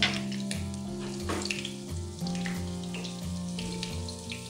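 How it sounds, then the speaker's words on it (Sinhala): Curry leaves, ginger and garlic fry in hot oil for Sri Lankan chicken kottu roti, giving a close, continuous sizzle with occasional crackling bursts and no talking. "තෙල් ටික දැන් හොඳට රත් වෙලා තියෙන්නේ. දැන් මම මේකට මුලින්ම දාගන්නවා කරපිංචා ඉඟුරු සුදු ලුණු"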